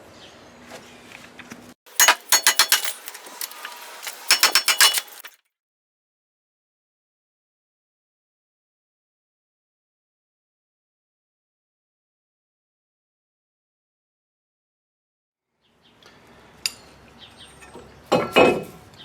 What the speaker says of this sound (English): Just take a hammer and knock the rotor off.